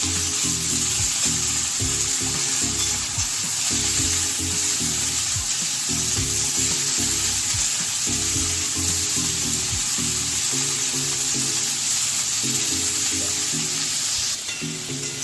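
Snake gourd frying in hot oil with a steady, close sizzle, broken by repeated rhythmic stirring scrapes throughout; no one speaks.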